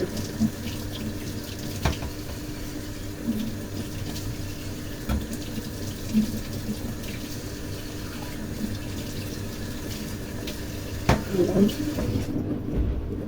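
Kitchen tap running steadily into a sink while chicken is washed for tinola, a continuous close splashing hiss with occasional clunks and knocks of handling, cutting off just before the end.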